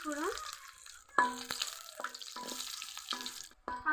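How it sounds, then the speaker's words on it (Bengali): Bay leaves and panch phoron hit hot oil, giving a close, crackling sizzle with sharp spitting pops and some clattering, while a voice speaks briefly near the start. "তেল গরম হয়ে গেছে দিয়ে দিব তেজপাতা সামান্য পাঁচ"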